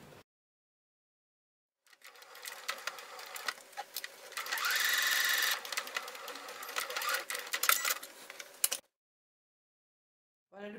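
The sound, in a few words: sewing machine stitching the collar of a fabric lion plush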